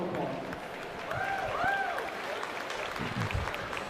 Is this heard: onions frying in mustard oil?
no